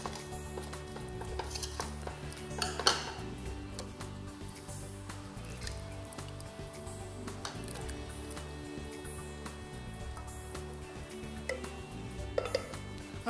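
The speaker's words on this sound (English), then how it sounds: "So now we're going to add in our cans of tomatoes." Canned tomatoes tipped into a pan of spaghetti bolognaise, giving a continuous wet clatter and scraping of metal against the pan with faint sizzling, close and steady with a few louder knocks.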